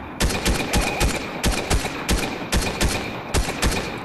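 Rapid bursts of gunfire in Fortnite, a multiplayer shooter, hammering at a wall: sharp repeated shots in irregular clusters, loud and close, with no talk over them.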